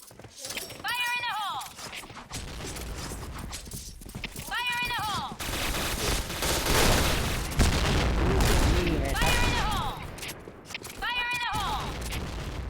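Bursts of rapid gunfire and booming blasts from a game, mixed with horse whinnies and hoofbeats, while people talk over the action.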